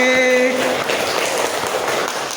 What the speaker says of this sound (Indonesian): Oke, kelompok 2 kasih aplaus.